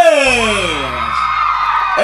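Women's high, sliding shouts and whoops ring out loudly together at a wedding, a long rising-and-falling cry over a low steady background.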